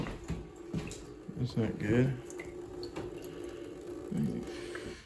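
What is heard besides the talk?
water left running from a tap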